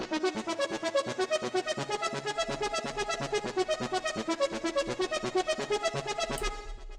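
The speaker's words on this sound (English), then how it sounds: "Then the last layer is this ARP, which sounds like this." Filtered arpeggiator synth layer from a future trance track, fast repeating notes in a steady bright pulse, loud and alone, with a low bass swell entering partway and a short rising sweep near the end.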